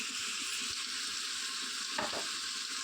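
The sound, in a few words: red pumpkin stir-frying in pan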